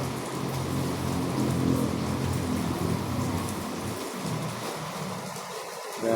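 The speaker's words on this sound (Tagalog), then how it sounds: "Grabe nga ulan" Heavy rain pours down steadily, a dense, loud wash of drops hammering surfaces nearby with a low rumble underneath, continuous for several seconds with no talking.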